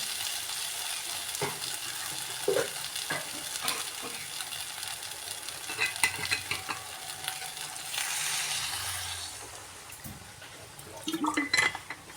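Bottle gourd shukto is stirred in a pan, with a low sizzle and intermittent scrapes and clanks of a spoon against the pan, quiet and close, with a brief burst of clatter near the end.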